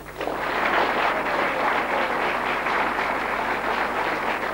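Sustained applause from a large audience at a televised game-show event, dense and steady clapping that stays loud and even throughout.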